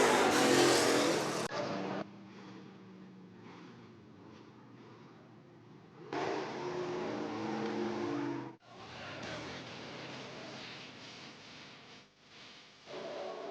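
Outlaw Mini-Mod race cars rolling through a parade lap at Worthington Speedway, engines droning steadily at moderate volume with a louder surge as cars pass nearby, then easing back into a low rumble.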